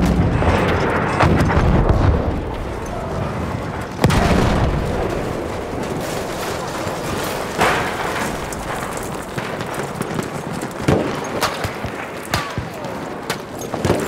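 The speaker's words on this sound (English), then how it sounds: "Bomba atıyorum." Heavy bomb explosions from Battlefield 1 boom amid continuous battle noise, with loud impacts near the start and again around the middle, followed by scattered sharp bangs and gunfire.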